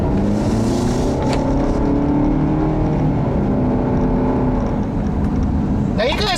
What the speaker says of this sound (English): It's still gonna have that rubber bandy, groaning noise when you get hard on the gas.